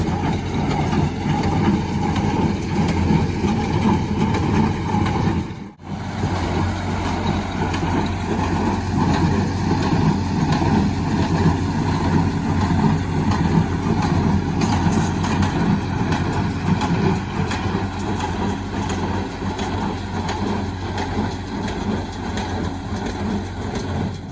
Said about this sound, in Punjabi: ਅੰਦਰ ਕਰਤਾ ਸਟਾਰਟ 3630 ਸਪੈਸ਼ਲ ਐਡੀਸ਼ਨ ਤੇ